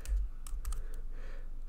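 Code being typed on a computer keyboard: a short, quiet burst of several distinct key clicks at an uneven rhythm, close and alone without talk.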